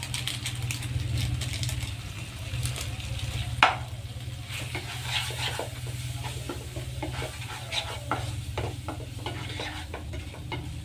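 Macaroni with Maggi masala and oregano being fried in a pan, a continuous sizzle with a low steady hum beneath, faint scraping of a spoon throughout and one sharper knock against the pan, no talking.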